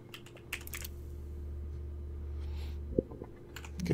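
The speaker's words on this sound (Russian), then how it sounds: "печатная машинка на него" Several quiet clicks from a typewriter in the Beholder 3 game, in short scattered bursts with one sharper strike near the end, over a steady low hum and no voices.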